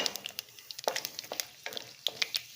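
Mustard seeds, fenugreek and dried red chillies temper in hot oil, giving quiet, irregular bursts of sharp crackles and pops over a soft sizzle.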